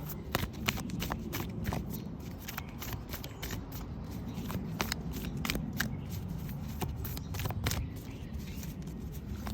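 Tarot cards are shuffled in a steady stream of crisp riffles and soft slaps, close and moderately quiet, with no talking.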